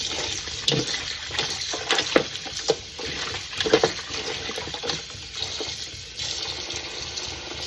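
Chicken feet are washed under a running kitchen tap, with steady flowing water and irregular splashes and knocks as they are rubbed and handled close by.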